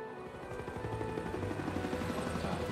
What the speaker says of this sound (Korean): 헬기도 준비해놓고.